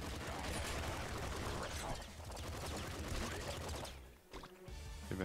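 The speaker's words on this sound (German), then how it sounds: "Ich habe gerade so viele Schüsse gemacht." Gunfire in the top-down shooter video game Nuclear Throne, rapid dense bursts of shots and impacts packed tightly through most of the stretch, loud and busy with a brief lull near the end before firing resumes.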